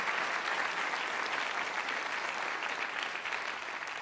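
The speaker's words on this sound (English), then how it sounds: "Can you get an applause, people?" Audience applause at an Innovator 2014 event, a dense, steady patter of clapping from a crowd that holds for about four seconds and eases slightly toward the end, with no voices over it.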